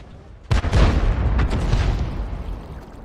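Gunfire in a video game, played over cloud gaming: a sudden loud boom followed by several rapid bursts of shots that fade into a rumbling tail.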